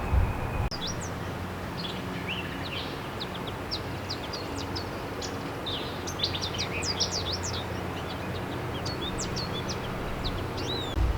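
Many birds chirp and sing at a distance in a forest, their thin calls overlapping continuously over a low, steady outdoor rumble.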